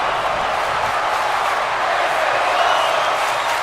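A wrestling event crowd cheers and roars in a continuous loud wash of voices, steady and dense, with no single voice standing out.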